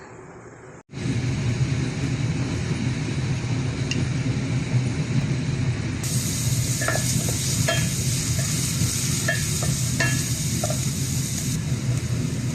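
Beef sizzles steadily in a pan with Indonesian sauce, a loud continuous fry that starts abruptly after a brief silence, with occasional stirring scrapes and clicks on top.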